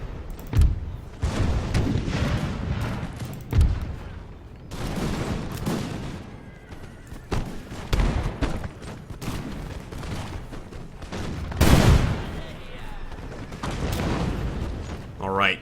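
Musket volleys and artillery cannon fire sound in a Total War battle game with Imperial Splendour Russian forces. Repeated loud booms and crackling fusillades come every second or two over battlefield din, and someone talks over them.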